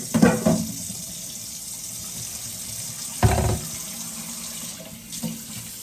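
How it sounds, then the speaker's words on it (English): Cold water runs from a tap into a container for rinsing a batch of homemade butter, a steady close stream broken by three louder splashing surges, with no talking. "So now I'm going to be washing it with cold water. I'm going to fill that up with cold water."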